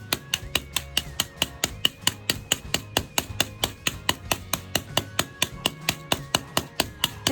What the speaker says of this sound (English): we're gonna get our mallet, and we're just gonna pound it out